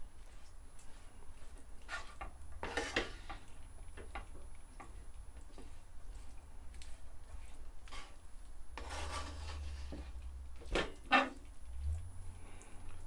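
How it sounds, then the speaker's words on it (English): Minced beef stirred in a hot pan, heard as quiet intermittent scraping and rubbing strokes with brief rasping bursts over a low background hum, no talking. "Give it a nice mix, give it another 2 minutes."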